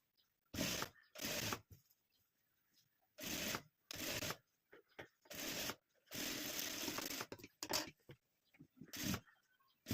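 A sewing machine stitches blouse pieces together in short, loud bursts of rapid mechanical whirring, stopping and restarting about ten times with quiet gaps between runs, close by and without speech.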